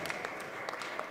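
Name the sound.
audience clapping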